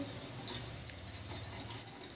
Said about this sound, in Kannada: ಇವಾಗ ಹಾಲು ಹಾಕೋತೀನಿ ನೋಡ್ರಿ